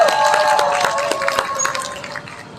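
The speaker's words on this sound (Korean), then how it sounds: "나연님 큰 박수로 모셔드리겠습니다" Applause at an outdoor climate justice rally as the next speaker is welcomed, a crowd clapping briskly and close, gradually thinning out near the end.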